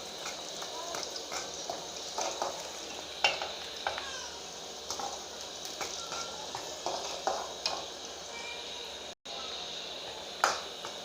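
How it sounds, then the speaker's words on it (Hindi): Onions and garam masala frying in a pan while being stirred, a steady sizzle broken by repeated scraping strokes of a spoon, fairly close and moderate in level, with faint background noise. "तो मैं इसी में भून लेती हूँ गरम मसाले को। हल्का हमें ब्राउन करना है प्याज को,"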